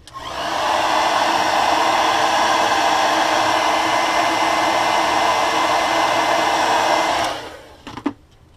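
A hair dryer blows continuously to dry paint on a crankbait fishing lure, a loud, steady whooshing hum lasting about seven seconds before it shuts off, followed by a brief clunk.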